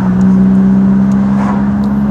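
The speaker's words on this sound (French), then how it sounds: "On a un peu de circulation" Car traffic on a road gives a loud, close, steady engine drone with a strong low hum, holding even throughout without any speech.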